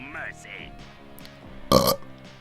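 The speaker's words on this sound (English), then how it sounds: "Sorry, was that inappropriate to burp right there?" A loud, gravelly burp erupts once, lasting about a quarter second, from a Let's Play commentator during a Tales of Symphonia session, breaking up game dialogue and music heard before and after.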